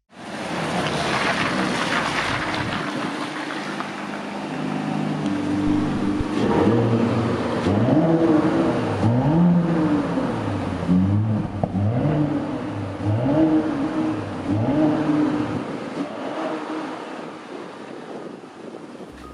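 Hybrid SUV engine accelerating hard in sport plus mode, a loud sustained roar rising and falling in pitch through gear changes, with heavy wind noise throughout.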